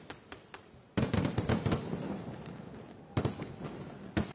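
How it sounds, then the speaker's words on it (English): Diwali fireworks and sparklers crackling and popping in a sharp irregular series of bangs over a continuous hissing fizz, moderately loud and without talk. "Fireworks and sparklers are just one part of the celebrations."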